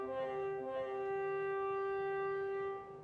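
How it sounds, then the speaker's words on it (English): A phone ringing with a steady, sustained electronic tone made of stacked even harmonics, moderately loud and close, holding for about three seconds before fading away. "That's my phone."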